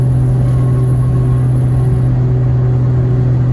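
A diesel pickup engine labours at full throttle while climbing a hill just after a downshift, producing a loud, steady, close drone that continues without pause.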